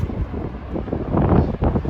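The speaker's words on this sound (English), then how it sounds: "Like I said, it's windy." Strong wind on a beach on Scotland's north coast buffets the microphone, a continuous low roar rising and falling in gusts.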